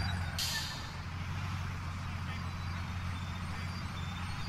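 A bus in Grand Theft Auto 4 idles with a low engine drone after a short hiss of air release, holding a steady rumble throughout rather than any clear tire squeal.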